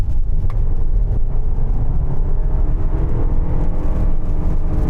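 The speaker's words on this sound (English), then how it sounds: "when you floor the throttle, it just holds the engine's revs pretty constant, and then you get this droning noise." Constant-rev drone from a Lexus LM luxury minivan's four-cylinder engine held by its CVT gearbox, a steady low rumble and whir heard from the cabin, loud and unchanging throughout.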